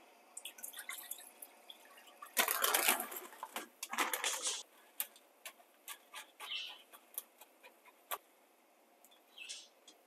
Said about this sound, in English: so I'm just going to add a little bit of water